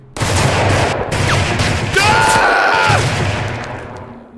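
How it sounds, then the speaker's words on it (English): Rapid, loud gunfire from a gun shooting light bullets in the zombie game TABZ, a dense fusillade of shots lasting several seconds with a brief shout mixed in. "It shoots really light bullets."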